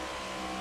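A race car at Kansas Speedway roars in a steady, loud engine drone as the clutch is kicked out, a continuous broadband blare with no talking.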